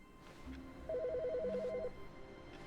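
An in-game telephone in The Stanley Parable rings once with a rapid warbling electronic trill lasting about a second, clear and close over a quiet room tone.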